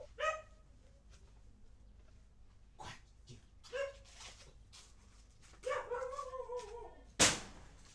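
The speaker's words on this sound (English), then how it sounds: "Let me make this dog silent." A dog barks several times from fairly close by, sharp yelps and woofs spread irregularly across the clip with quiet gaps between, ending in a louder burst.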